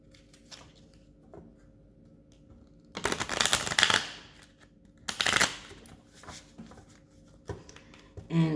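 Deck of angel cards shuffled by hand in short bursts, two longer riffling passes and a few quick flicks between near-silent pauses, close and fairly soft.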